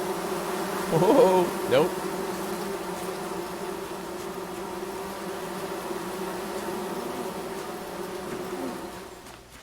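Bees buzz in a steady, continuous drone in the survival crafting game Among Trees. A man briefly exclaims over the buzzing early on, then the hum carries on alone and fades slightly at the end.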